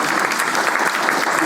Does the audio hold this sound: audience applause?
yes